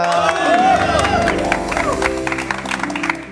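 A studio audience on an Indonesian television show claps and cheers for a guest singer, the applause rising and then thinning out while background music and voices carry on underneath.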